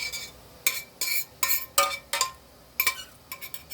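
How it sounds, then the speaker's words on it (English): A spoon clinks and scrapes against a container of freshly made homemade salsa, with about seven short, bright scraping strokes in irregular rhythm, close and fairly quiet, with no talk. "Let me use my other spoon real quick so I can scrape all the goodness out."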